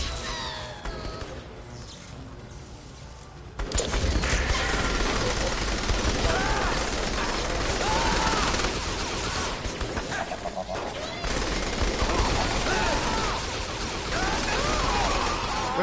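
Dense, loud bursts of rapid gunfire from the Saints Row 3 Remastered co-op game. The firing starts after a quieter opening of a few seconds, then rattles on almost without pause to the end, with crashing impacts mixed in.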